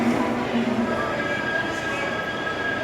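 The Sainagar Shirdi Express rumbles along in a general coach with a steady roar and faint squeal, loud and close, with some talk mixed in.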